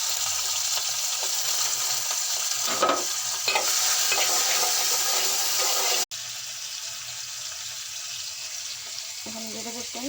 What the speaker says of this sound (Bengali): এখন চিংড়ি মাছটি ভেজে নেব।